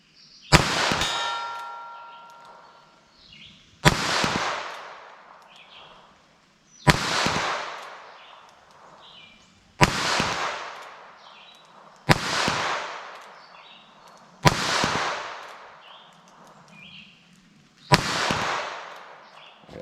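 .22 Short or Long cartridge rounds are fired from a handgun at a steel target, seven sharp cracks at roughly three-second intervals, each followed by a ringing metallic clang that fades slowly.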